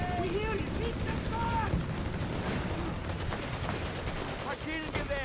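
Machine gun fire in the real-time strategy game Company of Heroes 3, a dense battle mix of rattling gunshot bursts and explosions, with spoken commentary running over the fighting.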